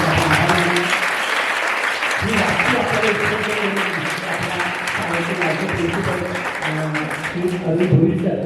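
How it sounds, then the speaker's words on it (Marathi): An audience at a Lions Club health event for women and teenage girls claps in a sustained, dense round of applause while a voice talks over it on a microphone. "पुन्हा एकदा टाळ्या त्यांच्यासाठी जोरदार झाल्या"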